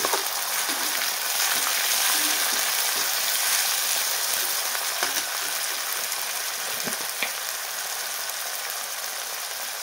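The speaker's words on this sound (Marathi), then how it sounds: "आणि टोमॅटो टाकला आपण परतून घेऊया" Chopped tomato sautés in a pan for egg bhurji, giving a steady close sizzle with a few light stirring clicks and no voices.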